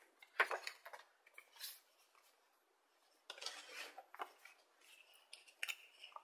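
Scissors snip and trim through paper with an adhesive backing in quiet, scattered cuts and rustles, with a pause midway before more snipping resumes.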